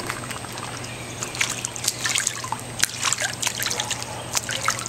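Ducklings make small, light splashes in bath water, with water trickling close by and quick irregular bursts of dripping and sloshing over a steady low hum.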